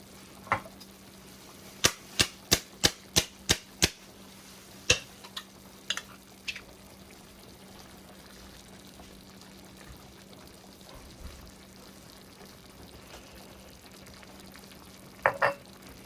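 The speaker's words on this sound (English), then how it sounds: "So we're going to get that stirred up in there." Chicken tikka masala is stirred in a pan: a quick run of sharp spoon taps against the pan, then a few scattered clinks over a faint, steady simmer.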